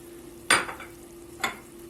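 Two short bursts of sizzling as chopped peppers hit a hot frying pan, the second softer, over a faint steady hum.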